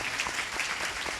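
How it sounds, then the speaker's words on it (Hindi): A church congregation claps together at a Friday worship meeting, a dense, steady burst of many hands filling the room at close range with no voices over it. "आइए ताली बजाएं और प्रभु यीशु मसीह का धन्यवाद करें।"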